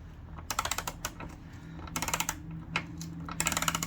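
A ratchet wrench tightens the chain adjuster on a 2021 Yamaha MT-09 motorcycle, in three short bursts of quick, close metallic clicking separated by pauses over a low background hum.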